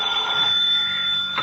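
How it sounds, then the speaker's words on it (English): An old-fashioned telephone bell rings loud and close early one morning in a 1950s radio drama. It is a single sustained electric ring lasting about a second and a half with no voices over it. "Next morning, the phone awakens"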